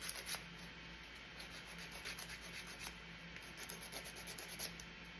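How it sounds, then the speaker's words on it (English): A sanding block rubs back and forth over the burned surface of a vintage craft-kit stove, giving steady close scraping strokes in an uneven rhythm. "You can use sandpaper, sanding block."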